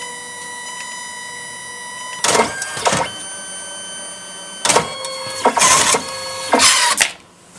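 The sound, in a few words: photobooth printer printing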